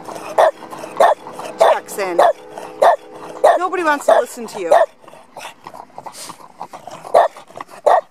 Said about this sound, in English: And why are you barking?